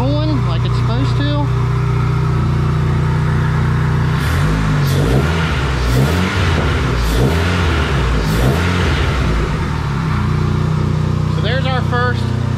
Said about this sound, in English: We got our turbos just spooling like it's supposed to.